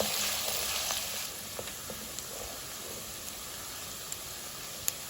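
Steady sizzling of onion frying in a hot pan, with a soft hiss throughout and occasional small pops and crackles.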